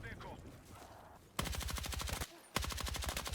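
Rapid automatic MP5 submachine gun fire in a video game, two loud sustained bursts of evenly spaced shots after a quieter stretch with faint voice and game sounds.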